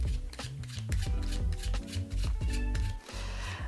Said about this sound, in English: we will shuffle it as well